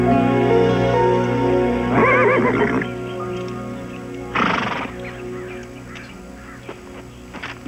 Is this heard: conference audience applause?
no